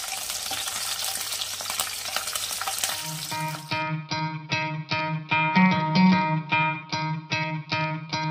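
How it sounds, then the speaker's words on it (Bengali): Shingi fish fry in hot oil with a busy, crackling sizzle for about three seconds, which then gives way to a rhythmic, pulsing tonal sound. "এখানে মাছগুলো ভাজা হয়ে গেছে।"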